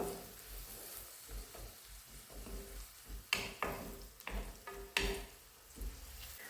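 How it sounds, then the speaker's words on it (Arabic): Peppers frying in a pan give a steady, quiet sizzle, broken by a few louder stirring clatters partway through, with no one speaking. "دوكا راح نزيد الفلفل ونخليه هو ثاني يتقلى"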